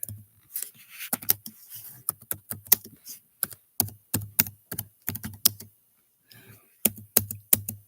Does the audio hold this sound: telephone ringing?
no